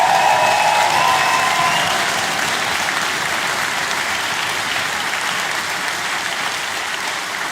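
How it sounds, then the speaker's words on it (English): The audience at a symphony orchestra concert gives a loud, sustained round of applause, a thick wall of clapping with a brief whistle or cheer early on, holding steady to the end. "Please give them a round of applause."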